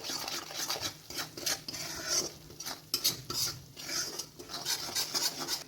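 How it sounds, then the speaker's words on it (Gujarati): Soft scraping and rasping of a spoon stirring chili powder and salt in a pan for garlic sev mamra, in repeated strokes with light metallic clinks, fairly quiet and without talk. "મરચું અને મીઠું ઉમેરીને બધું સરસ મિક્સ કરી લઈશું"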